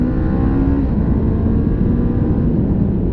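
Steady engine drone of a 2016 Honda CBR500R twin-cylinder sport motorcycle pulling away under power, a continuous low hum with wind rush, no voices.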